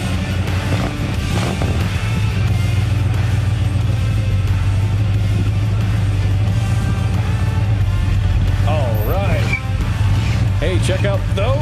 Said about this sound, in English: Ford Falcon, working on that restoration project. Chirping some tires at idle as well.